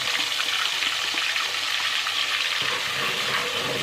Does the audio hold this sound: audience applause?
no